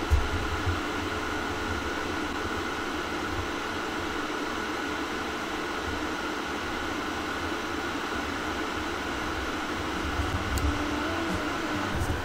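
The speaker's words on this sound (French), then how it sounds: "le ventilateur est carrément plus bruyant." Cooling fan of a Vivibright GP100 projector running, a constant loud whooshing airflow with a low hum, unchanging and close for the whole stretch.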